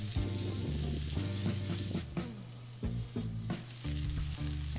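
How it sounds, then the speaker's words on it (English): Burgers sizzle on a Weber Q griddle and grill grates, giving a steady bright hiss that sits under louder tonal music throughout. "it's time to flip these burgers"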